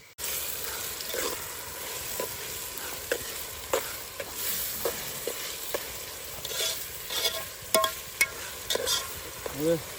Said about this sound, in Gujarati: હવે અમે નાખી રહ્યા છીએ લીલા મરચા